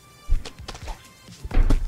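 A chair knocks dully against something, with two near, short thuds a little over a second apart, during a noisy gaming session with people talking.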